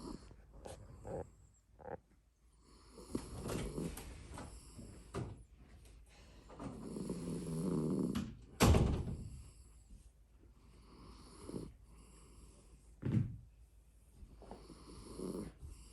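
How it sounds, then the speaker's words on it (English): A dog snores in slow, irregular rumbling breaths, nearby and fairly quiet, with a few louder snorts and soft thumps between them. "that dog, she does some serious snoring"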